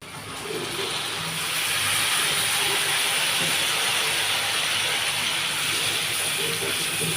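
Broth is poured over fried pabda fish in cooked-down spices, and the pan breaks into a loud, steady sizzling hiss that rises quickly and then holds close and even.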